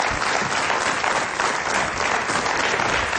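A studio audience on a Portuguese afternoon talk show gives a steady burst of applause for Rodrigo, dense and even clapping filling the room without a break.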